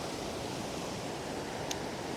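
Waterfalls at Crooked Creek, New Brunswick, make a steady, dense broadband rush with no breaks, loud and continuous throughout.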